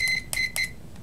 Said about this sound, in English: I should get a beep.